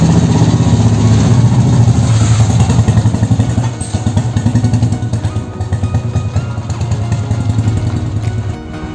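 A motorcycle engine runs loud and close, a steady throbbing rumble that dips slightly midway, at the start of a long road ride out of Bangalore.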